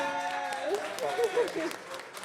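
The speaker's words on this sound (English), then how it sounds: "Everybody give a big round of applause." An event audience gives a round of applause, a rustling wash of clapping held under a nearby voice that talks over most of it.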